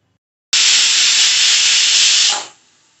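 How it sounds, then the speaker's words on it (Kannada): A pressure cooker of soaked rice for methi pulav vents steam in one loud, steady hiss lasting about two seconds before it cuts off abruptly and leaves a faint residual hiss. "ಒಂದೇ ವಿಸಲ್ ಸಾಕು, ಯಾಕೆಂದರೆ ಅಕ್ಕಿಯನ್ನು ನೆನೆಸಿರೋದ್ರಿಂದ ಒಂದು ವಿಸಲ್ ಹಾಕಿದ್ರೆ ಸಾಕು."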